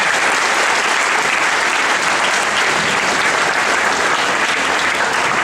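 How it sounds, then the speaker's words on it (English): Sustained, dense audience applause at a school prize day, loud and steady throughout with no break, a large crowd clapping together. "Let's all motivate them with a huge round of applause."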